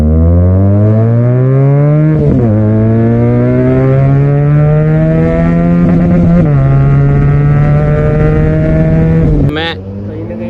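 An SRK400 motorcycle fitted with an aftermarket exhaust rides past up close, very loud, its engine note rising steadily through the gears with sharp drops at each shift, then cutting off abruptly near the end.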